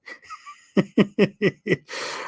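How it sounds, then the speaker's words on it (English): Five short, rhythmic snorting breaths from a snoring dog close by, evenly spaced like snores, followed by a longer breathy exhale. "I'm listening to my dog snore next to me."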